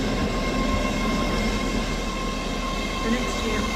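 A ScotRail class 385 electric train pulls into Edinburgh Haymarket station, a loud continuous rumble of wheels and motors with faint squeal, close and steady throughout.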